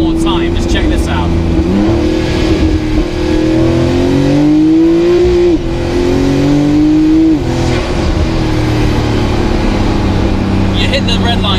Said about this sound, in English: For a turbo car, it actually revs very fast.